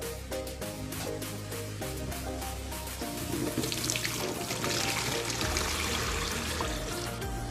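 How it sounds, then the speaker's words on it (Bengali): A mug scooping water out of an aquarium: soft splashing and trickling, quiet and close, growing fuller and more turbulent toward the end. "এক মগ পানি নিব।"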